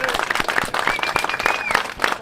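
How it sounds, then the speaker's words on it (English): Audience applause at a public debate on immigration at Abbeyville House in Fermoy, a dense, steady burst of clapping that fills the whole stretch, with voices and cheers mixed in over it. "TD Mattie McGrath, give me a huge round of applause everyone."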